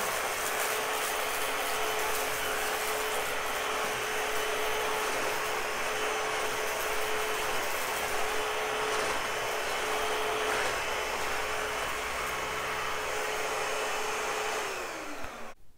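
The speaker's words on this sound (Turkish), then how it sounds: "Şimdi bir kez de güçlü modda üzerinden geçeceğim." An Altus AL 616 cordless stick vacuum cleaner runs on its strong mode, sucking up lentils with a loud, steady whine and rattling debris, then winds down at the very end; no one speaks.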